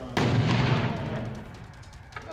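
A blast as security forces detonate charges to destroy a truck: one sharp, loud boom with a deep rumble that slowly fades, followed by a faint later pop.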